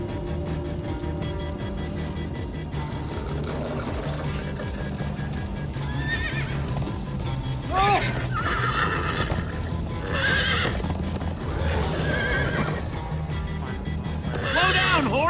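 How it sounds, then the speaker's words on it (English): Horses in Minecraft Story Mode neigh repeatedly in loud, shrill whinnies over a steady rumble of galloping hooves and game music, with characters talking in between. "Slow down, horse!"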